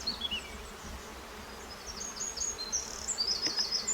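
Honeybees buzz around an open hive in a close, steady drone, with higher whining tones from individual bees flying past. No voices are heard.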